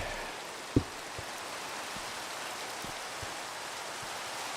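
Rain falling in a jungle in the Minecraft video game, a steady soft hiss of rainfall with a few faint isolated taps, quiet and continuous with no talking.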